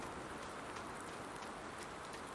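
Steady rain in Farming Simulator 19, an unbroken hissing patter at an even level with nothing else standing out.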